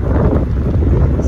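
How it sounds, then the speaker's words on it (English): Strong wind buffets the microphone on an exposed stretch of canal beside a narrowboat, a steady loud low roar with gusty rumble filling the whole moment. "We are on a really exposed stretch and it's super windy."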